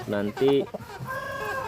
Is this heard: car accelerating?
no